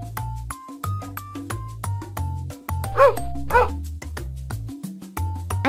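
A dog gives two short barks in the middle of an animal-sound guessing game, heard over a bright looping electronic tune that continues before and after.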